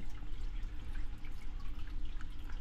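Water from a hang-on-back aquarium filter trickles steadily in a fish shed, a continuous close drip-and-splash patter with no voices.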